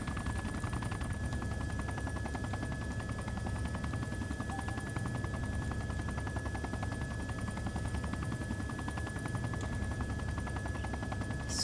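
A helicopter flies in the video game Arma 2, its rotor giving a continuous dense thudding drone with a steady engine hum, loud and unbroken throughout with no talk over it.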